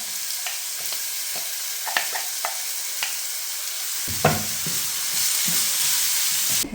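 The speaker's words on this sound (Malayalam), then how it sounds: "ഇനി ഇതിലോട്ട് ഗ്രേറ്റ് ചെയ്തിട്ടുള്ള ബീട്രൂട്ടാട്ടോ ഇട്ട് കൊടുക്കുന്നത്" Grated beetroot tipped into hot oil with green chillies in a pan for beetroot pickle: a few close spoon clinks against the pan, then a steady, loud sizzle with stirring scrapes, and no talk.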